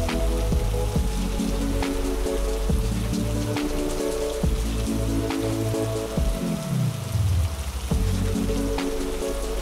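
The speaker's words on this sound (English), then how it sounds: "It's raining so heavy and I can't stay here anymore." Heavy rain pouring down outdoors on a landscape among green trees, a dense steady patter with louder drips and splashes throughout, no voices.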